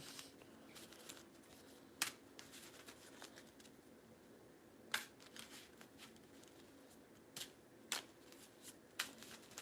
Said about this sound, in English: you're going to hear some shuffling